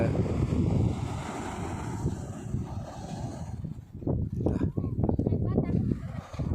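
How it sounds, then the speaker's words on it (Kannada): Surf washes onto the shore at Ullal beach amid gusty wind rumble, with waves breaking in uneven surges toward the end. "ಕಡಲ ಕಿನಾರೆ"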